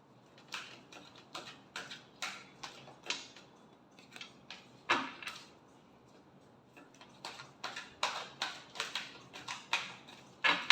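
A tarot deck is shuffled by hand, giving a quick series of soft, close card riffles and flicks in uneven bursts, with short pauses between them and no voices.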